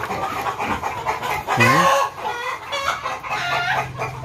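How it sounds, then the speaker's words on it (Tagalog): A Rhode Island Red hen clucking noisily after laying an egg, a loud squawking cackle near the middle, with softer clucks and other fowl around it. "Nangitlog na yan. Ingay."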